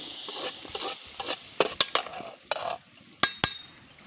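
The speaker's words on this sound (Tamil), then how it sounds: "கடுகு உளுந்து போட்டுக்கலாம். நல்லா பொரிஞ்சு வரட்டும்." Mustard seeds and urad dal splutter in hot oil for a fish curry, sharp crackling pops and intermittent spoon-against-pan clinks and scrapes, close and uneven, with no talk.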